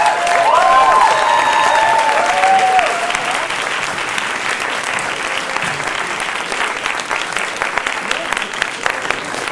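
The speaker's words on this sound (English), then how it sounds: "While we're moving, can we please give Bob another round of applause?" Audience applauding after a call for another round for a performer, loud sustained clapping throughout, with a faint whistle or cheer near the start and a slight drop in level after a few seconds.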